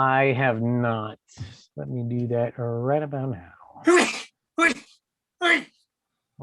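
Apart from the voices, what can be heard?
sneeze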